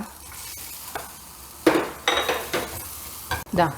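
Onion and ginger dry-roasting in a pan, stirred in bursts with a spoon: scraping strokes and soft sizzling come in short uneven clusters, close and fairly clear, with quiet gaps between and no speech.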